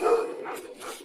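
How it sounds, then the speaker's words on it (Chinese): Stray dogs bark near an imperial academy courtyard at night, a few quick yelping barks with a whimpering edge, fairly close and clear, with no talking over them. "太学这2日时常会有野狗叫唤"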